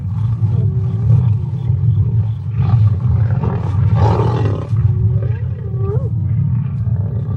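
Loud roaring and growling from several wild animals, with rising whooping cries and snarls over a continuous rumbling din.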